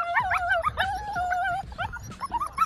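A litter of American pit bull terrier puppies whimper and yip close by, with high, wavering cries and short squeaks overlapping in quick, uneven bursts.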